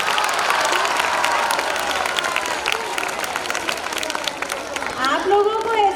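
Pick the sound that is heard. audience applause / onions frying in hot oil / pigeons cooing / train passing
audience applause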